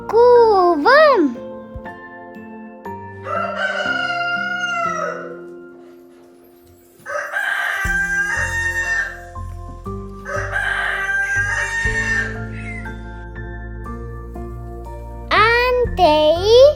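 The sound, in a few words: rooster crowing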